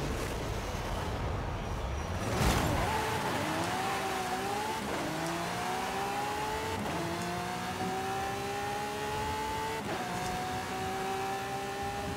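Drag car in Forza Horizon 5 revving hard through the gears, each climbing engine whine cut by a quick shift, roughly four upshifts in sequence, loud and close with a sharp burst near the start.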